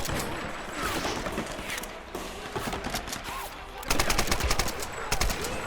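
Bursts of rapid gunfire crackle through a busy Tomb Raider game soundscape, with a heavier volley near the end and faint voices in the background.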